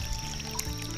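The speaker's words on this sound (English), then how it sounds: "Even the sound of the flowing water is crystal clear." Clear spring water pours and flows in a continuous close gurgle at a village spring in Gangjin, South Korea, with a faint tonal hum underneath and no talk.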